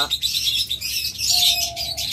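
A violet wing opaline pair of pet birds chirps close by, a brisk run of high twittering notes with one longer sustained whistle partway through.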